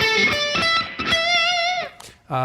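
Heavily distorted electric guitar through a Boss DS-2 Turbo Distortion pedal, playing a short lead phrase of picked notes that ends on a long sustained note, loud and close with thick, buzzy overtones.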